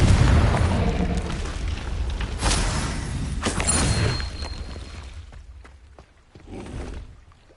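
Fiery spell blasts from Confringo and Incendio in the video game Hogwarts Legacy, a series of loud booming explosions and bursts one after another, with rumbling crackle trailing off between hits.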